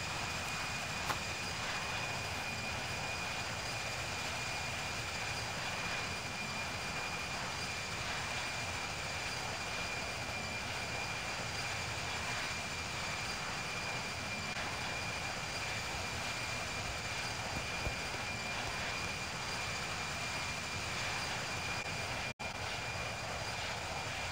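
Steady, even aircraft engine drone in the Infinite Flight game on a long Himalayas flight, a constant cruise hum with a faint high tone and no talk.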